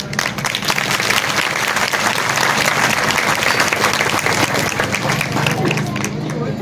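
A crowd at a Marathi motivational lecture breaks into loud, sustained applause that runs unbroken for several seconds, with a murmur of voices mixed into the clapping.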